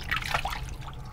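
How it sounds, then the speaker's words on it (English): Water splashed onto a face before shaving, a short burst of wet splashing and dribbling close up, with no talking. "splash a little water on"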